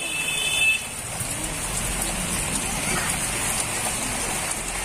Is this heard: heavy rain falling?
yes